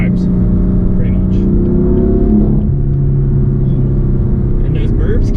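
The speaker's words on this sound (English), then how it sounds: "those burbles sound pretty cool" A BMW M4 F82 with a Bootmod3 stage 1 tune rumbles steadily up close, its exhaust giving low burbles and crackles over a continuous engine drone, with a few sharp pops near the end.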